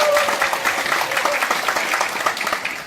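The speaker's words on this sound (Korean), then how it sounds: "다시 한번 큰 박수 부탁드리겠습니다" An audience at a Democratic Party youth political event breaks into dense, sustained applause, steady clapping from a sizable crowd heard up close throughout.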